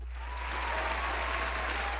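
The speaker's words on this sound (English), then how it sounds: "Give him a round of applause." Round of applause from an audience, steady dense clapping filling the whole moment at even loudness, with a constant low hum underneath.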